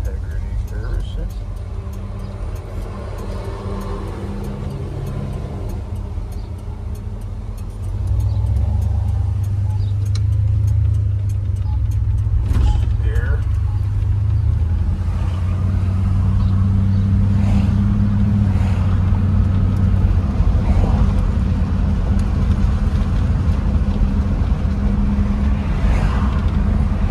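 A 50-some-year-old car drives along with its engine running as a steady low rumble throughout, growing a bit louder partway through, while someone talks over it.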